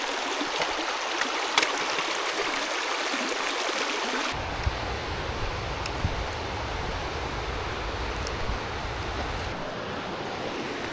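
A stream flows through the wild Norwegian countryside, a constant loud rushing of water with wind buffeting the microphone, steady and unbroken with no voices.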